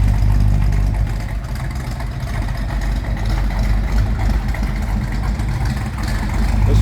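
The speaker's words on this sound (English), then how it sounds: "455, nice little rumble to it" A 1973 Pontiac Firebird Trans Am with a 455 engine idles with a deep, steady low rumble, close and loud, its throb pulsing slightly with no one speaking.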